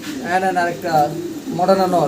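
Fancy pigeons at a sale coo close by in three soft, throaty, rolling calls, rising and falling in pitch.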